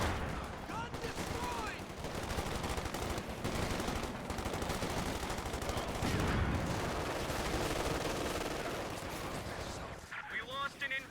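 An anti-tank gun fires amid a Company of Heroes 2 battle: dense, loud gunfire and explosive booms pound almost without pause, with rapid weapon bursts layered over the din and a commentator's voice likely mixed in.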